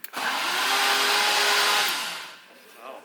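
A K-swapped Honda Civic engine cranks and sputters loudly for a couple of seconds on its first start, straining without catching, then dies down; faint voices follow.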